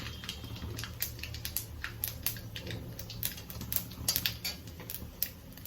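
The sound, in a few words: mustard seeds popping in hot oil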